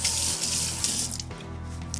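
Water running steadily from a kitchen tap to wet a work surface while baking babà with rum, a constant close hiss that weakens slightly partway through.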